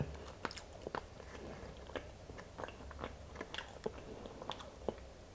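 Close, moist chewing of boiled mucuna beans (velvet beans, firm dense flesh), with irregular soft bites and crunches spread over several seconds at low level.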